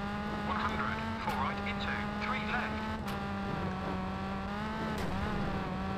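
Rally car engine in the V-Rally 3 video game on a snowy Sweden stage, a steady droning note with shifting revs held throughout, with a voice speaking over it.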